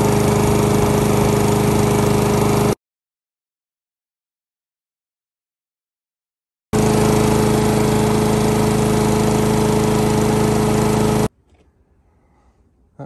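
A Honda GCV160 lawn mower engine runs steadily and loud, idling a bit slow, in two bursts with a gap of silence between them before it cuts off.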